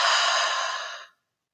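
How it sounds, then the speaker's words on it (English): One deep breath is exhaled slowly and steadily during a relaxation exercise, a close, breathy rush lasting about a second before it fades into silence. "Take a deep breath in, all the way into the belly,"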